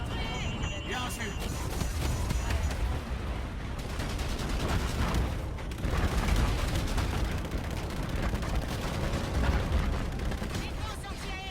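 Dense, continuous barrage of game gunfire and blasts, loud throughout, with voices talking over the action.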